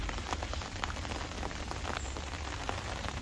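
Steady rain falls at a lakeside fishing spot, a dense even patter of drops on surfaces with occasional louder taps, continuous and moderately close with no talking.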